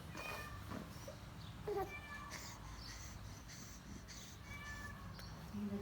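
A cat meows several times close by at moderate level, short rising cries spaced irregularly over quiet indoor background.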